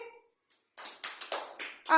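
Children in a classroom clap their hands in short uneven bursts after a brief pause, a few quick sharp claps close by.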